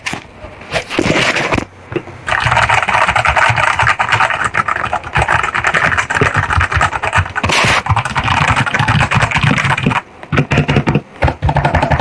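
Rapid, steady clacking of keys on a wireless mechanical keyboard, typed close up and loud for most of the stretch with a few short pauses and no talking.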